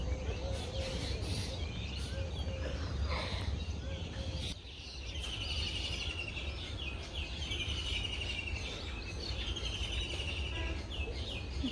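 Birds call and chirp around a village on a spring morning, with scattered high tweets repeating over a soft, quiet outdoor background.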